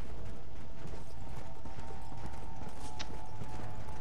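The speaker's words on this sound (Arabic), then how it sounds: "شوفوا شوفوا ايش الحصان اللي يتحرك ذا" A horse's hooves clip-clop in a steady rapid rhythm in the Red Dead zombie game, with faint background ambience and no speech.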